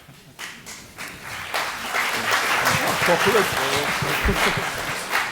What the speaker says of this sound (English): So you did draw some applause.